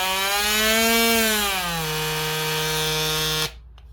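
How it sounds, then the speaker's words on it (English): A battery-powered oscillating multi-tool runs on its own with a steady, loud motor whine that drops slightly in pitch partway through, then cuts off abruptly near the end. "Turn on your oscillating tool from here."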